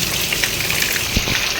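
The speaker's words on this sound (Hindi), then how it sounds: "इतनी ज़्यादा बारिश हो रही है।" Heavy rain falls steadily as a dense, even hiss, with a couple of brief low thumps near the end.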